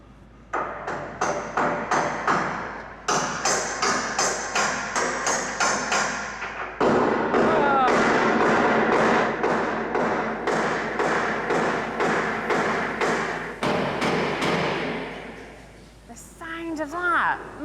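Red-hot rivet hammered to join two steel sheets, shipyard riveting demonstration: rapid repeated metallic hammer blows in loud bursts, a brief pause and then a longer sustained run of strikes, with voices over the end.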